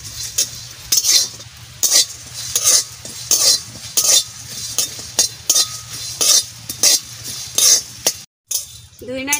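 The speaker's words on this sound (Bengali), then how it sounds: "কটা শুকনো লঙ্কা দিয়ে দিচ্ছি। এই খোলায় আমি ভেজে নেব।" Dried chillies, coriander and cumin are dry-roasted in a pan, with a spatula scraping and clinking against the metal in regular strokes over a low background hum, ending in a brief pause.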